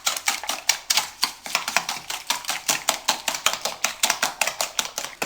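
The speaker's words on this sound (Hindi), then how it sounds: "इतना अच्छे तरीके से बीट करें चीनी और अंडे अच्छी तरह मिक्स हो जाएं" Sugar and eggs beaten by hand for a chocolate cake, a fast, regular tapping of a utensil against the bowl that repeats steadily and sounds close, with no talk.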